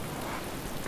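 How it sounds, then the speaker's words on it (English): Rain falls in the DayZ video game during a thunderstorm, a continuous, even hiss of downpour that fills the whole short moment with no voices. "I'm hearing rain."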